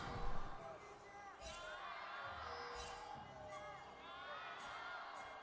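An esports arena crowd at an LPL 2025 League of Legends match cheers and yells, with scattered whoops over a steady hubbub and brief louder bursts, heard at moderate distance.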